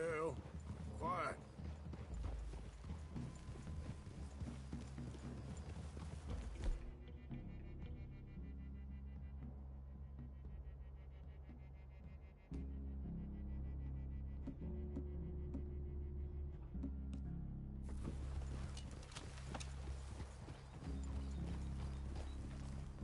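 Horses walking with hooves clip-clopping at a steady pace in a PS4 video game, under game music and characters' voices, fairly quiet throughout.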